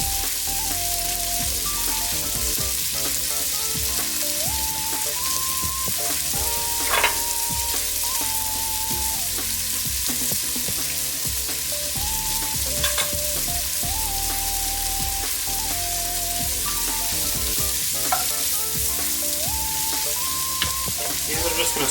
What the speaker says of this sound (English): I'll let the onion cook for a few minutes first, just to kind of get that sweating first, and then I'll add my carrot